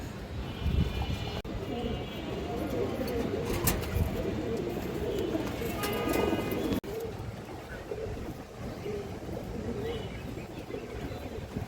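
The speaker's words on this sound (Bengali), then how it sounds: "খুবই সুন্দর একটা নর কবুতর" A male pigeon coos in low, repeated murmurs close by, with someone talking over them throughout.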